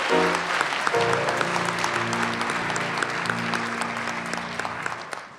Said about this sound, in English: Let's have a big round of applause for everyone who's still on the stage with us.